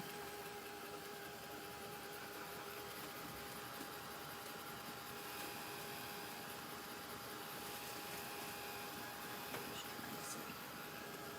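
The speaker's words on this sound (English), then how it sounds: "I'm drying my palette out." A blow dryer aimed at a paint palette gives a faint, steady whirring hum that stays constant throughout without pauses.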